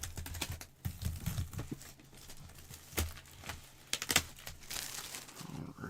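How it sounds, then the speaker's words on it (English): A blade cutting and slicing open sealed boxes of baseball trading cards, with close crinkling plastic wrap, tearing and scratchy cardboard sounds in uneven bursts, with no talking. "I'm going to try not to cut the boxes themselves too bad."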